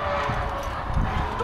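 Horse hooves clip-clop on a road during a horseback ride in Ensenada, with a low steady walking beat under a continuous outdoor rumble.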